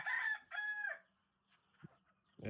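Rooster crowing in the morning on a home poultry setup with new chicks, two close, loud crow phrases at the start followed by quieter clucks and stray farmyard noises.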